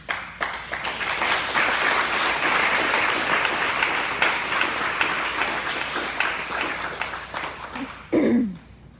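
An audience applauds at a community gathering about police violence in Los Angeles, steady dense clapping for about eight seconds, then a brief louder burst with a voice near the end.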